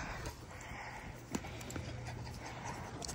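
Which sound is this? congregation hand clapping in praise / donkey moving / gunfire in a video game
donkey moving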